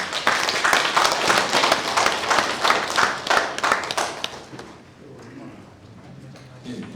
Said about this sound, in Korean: 축사하시기 전에 큰 박수 부탁합니다.